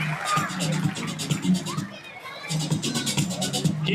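Applause and crowd noise fill the stands at a Babe Ruth youth baseball all-star opening ceremony, a steady clapping roar that dips briefly near the middle and then swells again, with children's voices mixed in.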